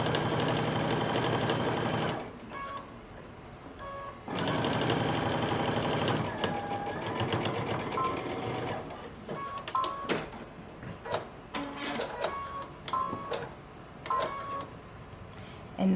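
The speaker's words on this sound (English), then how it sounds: "You're going to sew through all layers when we reach the collar." A sewing machine stitches a seam through the layers of a mustard sweater. It runs in two loud, steady bursts, then gives a series of short, uneven stitching runs and clicks, close to the listener and with no voices.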